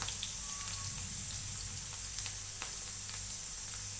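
Onions frying in a pan for a bitter gourd vegetable dish, a steady soft sizzle with faint scattered crackles, low and even throughout.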